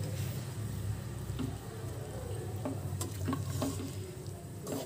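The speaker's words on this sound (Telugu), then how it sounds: "ఇప్పుడు ఇందులో రైస్ వేసుకోవాలి మనం ముందుగా ఉడికించి పెట్టుకున్న రైస్ వేసి మిక్స్ చేసుకోవడమేనండి" Cooked rice stirred into a mango pulihora mixture in a hot pan, a steady soft sizzle with quiet scraping and occasional light clicks of a spoon, no talking.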